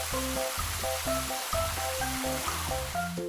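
Rushing, hissing water from a fire engine hose spraying onto a house fire, a broad continuous wash of noise under rhythmic background music, steady and loud throughout.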